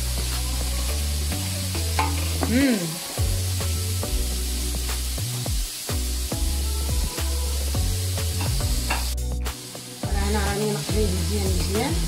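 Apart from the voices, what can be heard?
carrots and leeks simmering and sizzling in a pot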